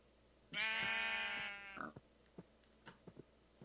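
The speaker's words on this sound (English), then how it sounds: "And there's a sheep." A Minecraft sheep gives one loud, drawn-out bleat close by, followed by a few soft clicking footsteps.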